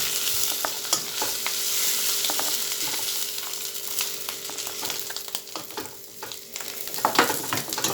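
Eggs fry in a pan with a loud, continuous sizzle and spitting crackle, steady and close for the whole stretch with no talking.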